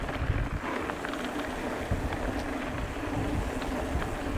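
Steady wind gusts buffet the microphone on a high-elevation desert mountain trail in Utah, a continuous loud rushing roar with no voices.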